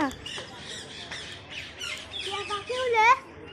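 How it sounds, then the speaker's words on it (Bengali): A bird squawks close by in a series of harsh, repeated calls, growing louder toward the end, with some background voices. "এই তো আমার পাশে পাখি আসছে আমার দেখো আমার পাশে আসতে আগে"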